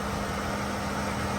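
A fan runs near an automotive AC compressor, giving a steady, even whooshing drone with a low hum underneath and no talking.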